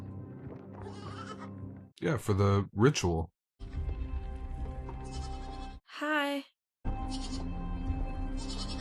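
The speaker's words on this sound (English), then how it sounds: "oh, they're bringing a goat now?" A goat bleats loudly in a scene from the TV show Severance, a single wavering cry between stretches of dialogue and a low musical score.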